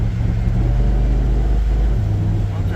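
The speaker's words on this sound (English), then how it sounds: "Hard shift, but it got out, went to third" Car engine droning steadily up close while the transmission hard-shifts from second to third gear, the low rumble dropping in pitch at the shift, with a faint voice underneath.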